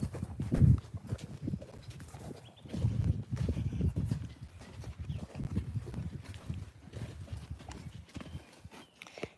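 Hooves of a horse being walked around a barn clip-clop in an irregular walking rhythm, close and fairly soft, with a few faint shuffles and no clear speech.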